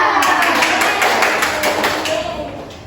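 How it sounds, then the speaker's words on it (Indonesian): A classroom group claps thumbs together in a steady run of about eight quick, close taps over a low hum of room noise. "Tepuk jempol untuk kita semua dulu."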